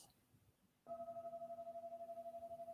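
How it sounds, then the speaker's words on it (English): A single meditation bell is struck, leaving a clear, steady ringing tone with a gentle pulsing shimmer that sustains without fading, after a moment of quiet room noise. "I'm going to ring this bell to start the meditation"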